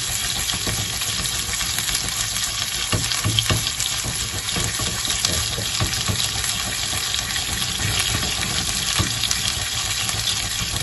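A Florentine-style steak sears in an oiled frying pan on high heat, producing a loud, continuous spitting sizzle with crackles and bursts throughout, heard alone.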